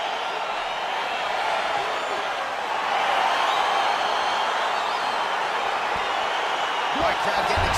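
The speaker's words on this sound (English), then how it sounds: "crowd getting excited as this fight gets underway" Excited arena crowd in a PS5 UFC fighting game, a steady loud roar of cheering that swells slightly as the bout gets underway, with a few faint thuds near the end.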